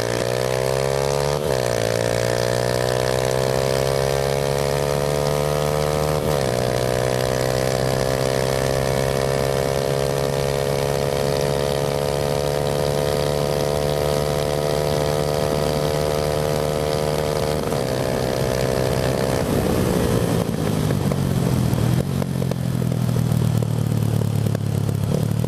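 Honda Titan 190cc motorcycle revving hard through the gears toward top speed, a loud continuous engine whine that climbs in pitch, drops at each shift and climbs again, with wind roar building near the end.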